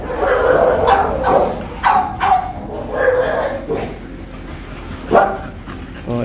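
American Exotic Bully dogs bark in a kennel, several loud, close barks repeating every second or so with some whimpers between them.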